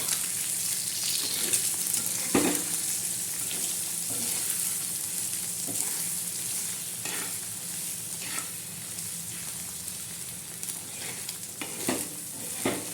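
Egg chutney with crushed green-chilli thecha frying and being stirred in a pan: a steady close sizzle with repeated scraping stirs throughout, no voices.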